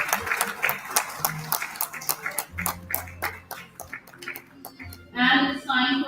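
Conference audience at a supply chain event claps for a speaker, a loose scattering of individual claps from a modest crowd, ending in a brief louder burst of more voiced sound.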